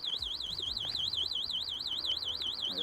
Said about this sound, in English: If you have the scooter locked and someone tries to move the scooter, the wheels will actually lock up and the alarm will go off.